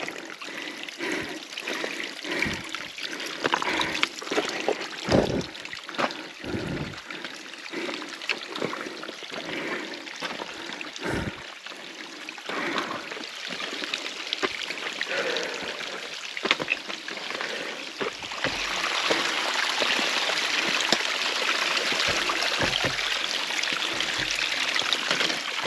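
Mountain stream water trickles and splashes beside a steep hiking trail in the White Mountains of New Hampshire after rain, a continuous close flow with small gurgles that grows somewhat fuller toward the end.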